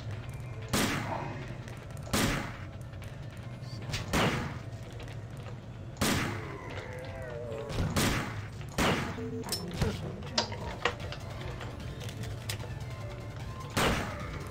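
Repeated shotgun blasts in the sci-fi horror game System Shock 2, about eight loud sharp bangs at irregular intervals, with faint game ambience and scattered clanks between shots.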